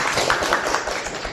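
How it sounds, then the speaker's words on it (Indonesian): Students in a biology class clap for a group that has just finished presenting, a short burst of dense, steady applause filling the room. "Tepuk tangan dong"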